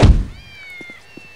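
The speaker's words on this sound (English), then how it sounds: "I gotta save those cats or something." After a heavy thud, one thin, drawn-out cat meow sounds in the Postal 2 PC video game, fairly faint and fading, with a few soft knocks beneath it.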